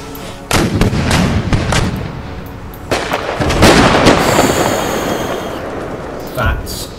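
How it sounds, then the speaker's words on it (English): Booming artillery blasts and crackling shrapnel bursts fill an Empire: Total War battle, loud and dense, with several heavy reports and a rumbling background of gunfire that carries on without pause. "Fire that shrapnel"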